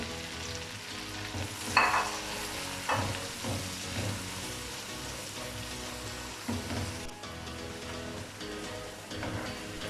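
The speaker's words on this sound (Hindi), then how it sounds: "अब इसमें नमक, मिर्च और हल्दी डाल देंगे और 1 मिनट के लिए भून लेंगे।" Tomatoes frying with salt, chili and turmeric in a pan for a dhaba-style aloo matar, giving a steady close sizzle with stirring scrapes and a few louder spoon knocks, no voices.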